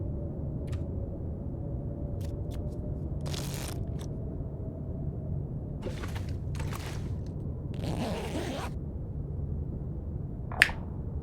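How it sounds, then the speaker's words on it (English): Several sharp, brief finger snaps spaced irregularly over steady low background noise, followed by one crisp, louder snap near the end, close to the microphone. "Snapping my fingers."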